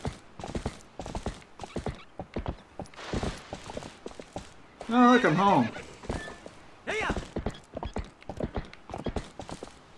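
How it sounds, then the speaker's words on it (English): Horse hooves clip-clopping in the video game Zelda: Twilight Princess, a steady run of quick, evenly spaced hoof thuds that carries through the whole stretch, heard under someone talking over it. "The horse looks really good"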